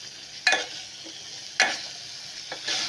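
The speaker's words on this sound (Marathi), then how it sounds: "छोलेही मी त्या मसाल्यात चांगले परतून घेतलेले आहेत." Chickpeas are stirred and sautéed in spice masala in a pan, with three short scraping stir strokes over a quiet background sizzle.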